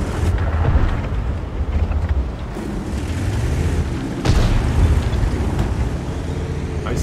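Cannon shots from the Caliban tank in World of Tanks: one heavy boom lands near the middle, with a possible softer one at the start, over a steady rumbling engine drone.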